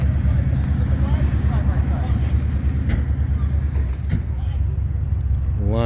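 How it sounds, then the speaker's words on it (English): Engines rumble steadily as classic cars such as 1950s Chevys, a Porsche and an early Nomad arrive at a Cars and Coffee meet at Ocean Beach, a loud, continuous idle with a voice talking over it. "More and more sweet cars arriving."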